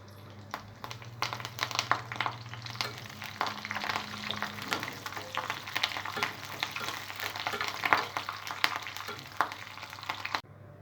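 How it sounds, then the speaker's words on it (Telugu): Tempering seeds, garlic, dried chillies and curry leaves frying in hot oil for a raw mango and peanut chutney, a close crackling sizzle with sharp pops and spatters throughout, stopping abruptly at the end. "ఆయిల్ వేడైన తర్వాత తాలింపు గింజలు, వెల్లుల్లిపాయ, ఎండుమిర్చి,"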